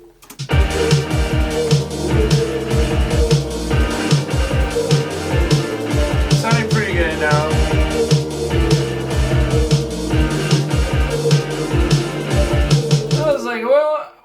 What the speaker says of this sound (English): So, here's where the guitars come in.